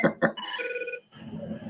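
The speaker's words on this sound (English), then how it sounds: "sorry, my phone's ringing." A phone ringing during an indoor talk, a short tonal electronic ring with steady pitched tones after two brief bursts of speech, then soft talk resumes.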